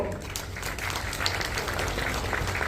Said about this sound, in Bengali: অমিত গাঙ্গুলি মহাশয়, তার জন্য একটা জোরে হাততালি চাইব।